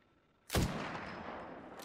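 A single sharp gunshot in an Apex Legends battle royale match cracks out loudly after a quiet lull, followed by a long decaying echo tail that rings on to the end.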